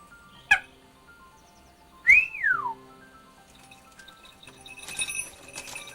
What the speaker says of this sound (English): As you can hear, I am still whistling, chapping and talking to her.